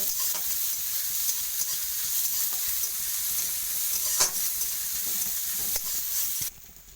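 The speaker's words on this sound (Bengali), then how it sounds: "এক চামচ রসুন, 1 চামচ আদা। এটা ভালোভাবে একটু ভেজে নেব।" A spoonful each of garlic and ginger fries in a pan for a pointed gourd curry, producing a steady bright sizzle with occasional stirring knocks, until it drops off abruptly near the end.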